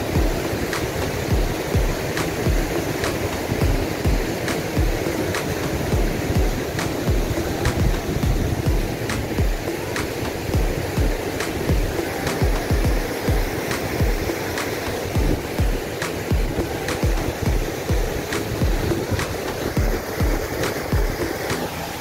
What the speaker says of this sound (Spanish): estas son las cascadas, el sector del camping a orillas del río Cato.